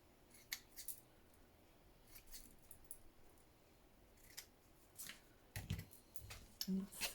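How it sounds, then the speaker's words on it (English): Scissors snipping close up through flat lace, a few sharp crisp cuts spaced irregularly against a quiet background, with light handling noises. "well, comes the scissors."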